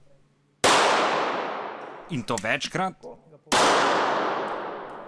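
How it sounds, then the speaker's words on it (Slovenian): Two loud, sharp gunshots ring out at a shooting range, each followed by a long fading echo, with someone speaking briefly between the shots. "Inštruktor se kar nekaj časa intenzivno ukvarjal z mano, da bi čim bolj varno in natančno streljal."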